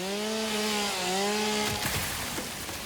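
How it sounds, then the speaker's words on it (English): A chainsaw clears plants in the factory-building video game Satisfactory, its engine droning steadily and loud, then breaking into rough cutting rasps near the end, with no voices. "I'm going to use the chainsaw to remove some of this stuff out of the way."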